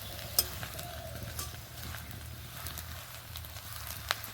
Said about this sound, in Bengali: খুব অল্প তেলে ভাজা হয়ে যায়